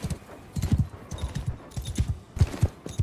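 Horses gallop on the battlefield in Mount & Blade II: Bannerlord, a close and busy patter of hoofbeats pounding in uneven clusters from start to finish.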